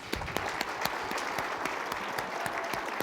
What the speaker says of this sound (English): Let's have another round of applause for Greg Kaminsky.